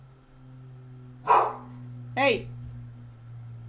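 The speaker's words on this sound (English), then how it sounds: "Sorry if you can hear my dog barking." A small dog barks twice indoors, two sharp separate barks close together over a steady low electrical hum, with a person calling out briefly.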